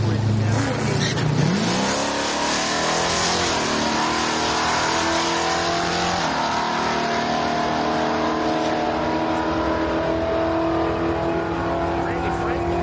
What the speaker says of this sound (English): the 67 Mustang Coupe. Running our Pro Street natural aspirated gas.